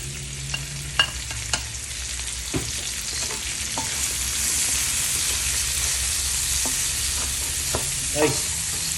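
Garlic and onion sauté in a pan for beef asado, a steady broad sizzle running throughout with occasional sharp clicks and scrapes of a utensil stirring against the pan.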